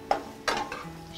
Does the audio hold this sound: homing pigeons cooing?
no